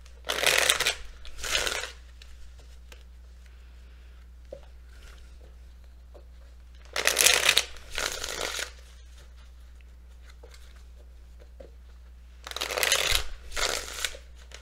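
Tarot cards being shuffled in three separate bursts, each a quick riffling flurry lasting a second or two, spaced several seconds apart over a quiet, steady low hum, close by and fairly soft.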